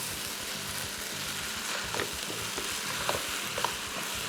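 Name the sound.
chicken and masala frying on high flame while being mixed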